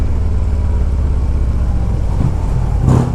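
A 2014 Harley-Davidson Street Glide FLHX engine rumbles loud and close with a steady low throb while riding under a bridge, building toward a rev near the end.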